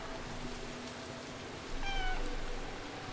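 A cat in the video game Stray lets out a single short meow partway through, heard against a soft, steady ambient bed that may be light rain.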